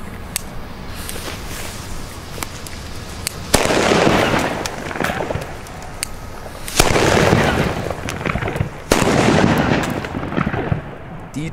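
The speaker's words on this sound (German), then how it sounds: "und zwar Funke D-Böller." Funke D-Böller firecrackers detonating on a street on New Year's Eve, a run of loud, sharp bangs and crackling bursts that come in several heavy waves with rolling echoes and no talk.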